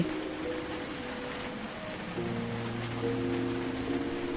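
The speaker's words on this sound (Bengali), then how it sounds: "বাইরে যা ঝড় বৃষ্টি হচ্ছে" Stormy rain falling outside, a soft, steady wash of drops on surfaces heard from indoors, with a low tonal hum underneath and no voices.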